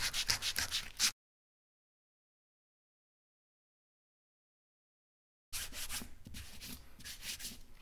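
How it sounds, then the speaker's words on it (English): Sandpaper rubs by hand against the rubber sidewall of a tractor tire in close, rhythmic scratchy strokes, heard in a short burst, then a silent gap, then another steady run. "So I'm gonna sand this down as best I can and just kind of get the rough edges off."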